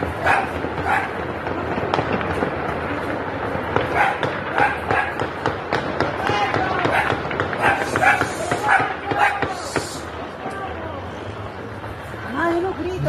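A dog barks repeatedly amid sharp popping sounds of gunfire in the streets, the barks fairly close and mixed under ongoing talk.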